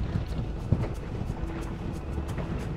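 Strong wind blows across the coast of Pungudutivu island near Jaffna. It makes a steady, rough, low roar with gusty buffeting on the microphone and no clear voices.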